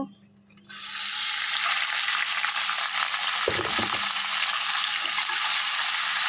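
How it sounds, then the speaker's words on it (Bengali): A loud, steady sizzle of potatoes frying in hot oil starts abruptly and continues, with a brief stirring clatter midway. "এখানে হচ্ছে আলু ভাজা করব"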